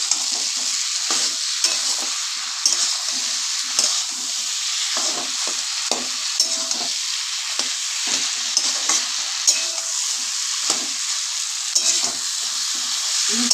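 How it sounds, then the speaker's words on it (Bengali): Spiced pumpkin with a hilsa fish head, seasoned with cumin powder and a little sugar, is stir-fried in a pan, with rhythmic scraping strokes over a continuous loud sizzle. "আর একটু কষিয়ে নেব।"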